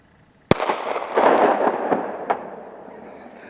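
A Mosin Nagant 91/30 rifle fires once at icicles outdoors in winter, a sharp loud crack followed by a long rolling echo that decays over about three seconds.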